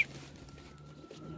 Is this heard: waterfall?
no